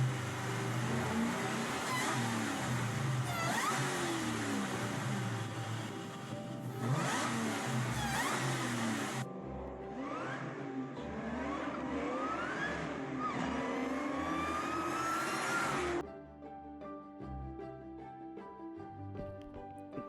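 A 2003 Ford Mustang SVT Cobra with a supercharged V8 revs hard and accelerates through several gear changes, loud and close, with a whining, roaring engine note. It then settles to a steadier rumbling idle-like drone.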